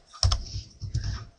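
Someone types a web address on a computer keyboard, a brief quiet flurry of key clicks lasting about a second and a half.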